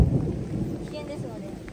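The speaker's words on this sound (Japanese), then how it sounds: "こんな雨の中の、雷の中" Low thunder rumbles over steady rain falling on an open-air natural hot spring in Japan during a storm, loud at first and then fading.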